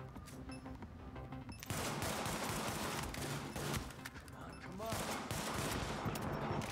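Dense bursts of automatic gunfire crackle continuously in the video game Tom Clancy's The Division, rapid shots layered over a busy combat soundscape.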